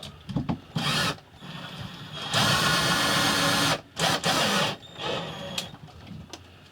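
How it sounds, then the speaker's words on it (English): A power drill bores into pine during a camper van self-build, running in several bursts of whirring of varying length with short pauses between, close and moderately loud. "it's crucial that you drill this pine before fitting it, because it will split dead easy"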